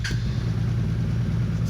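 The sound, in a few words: Honda Interceptor VF500F motorcycle engine starting and idling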